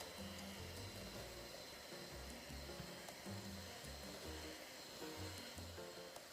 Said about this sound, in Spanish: vamos a encender el batidor a velocidad 1